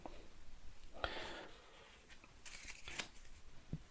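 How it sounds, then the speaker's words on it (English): Nation cards from the Imperium board game are shuffled by hand, a soft riffling and brushing of the card deck in two short bursts, quiet and close with no talk. "You then take the nation cards with the crescent moon symbol, give them a shuffle and place them face down."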